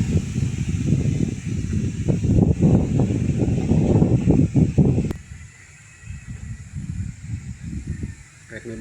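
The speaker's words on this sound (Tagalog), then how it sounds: "Napakalakas ng hangin" Strong typhoon wind roars and buffets the microphone in heavy gusts, then eases to a softer, fluttering blow halfway through.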